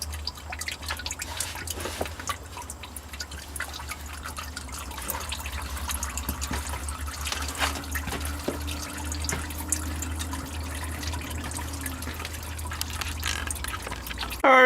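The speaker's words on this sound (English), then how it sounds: "we'll just let her drip overnight here, I think." Liquid dripping slowly from a Stihl FS90R string trimmer left to drain overnight, scattered individual drips falling at irregular intervals over a low steady background hum, quiet and close.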